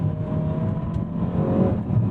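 A 2017 Ferrari California T engine accelerating on the road, a steady sustained drone with a rising tonal note running throughout, heard from inside the car.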